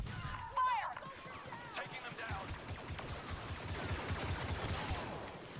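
Blaster fire crackles in a Star Wars Battlefront II battle, with rapid bursts and scattered shots under shouted voices and other battle noise.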